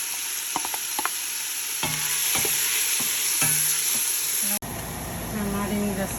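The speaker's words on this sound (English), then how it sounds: "We'll saute for 2 minutes or less. So now I'm gonna be adding the onion," Red and white onion with diced garlic sauté in a pan for chickpea soup, a continuous sizzle with several spoon clicks and scrapes, then a sudden louder burst as the onion goes in.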